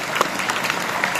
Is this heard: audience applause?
yes